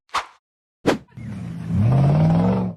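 Red off-road 4x4 climbing a steep dirt slope: two short sharp bursts, then a loud close engine revving and rising in pitch as it strains up the hill.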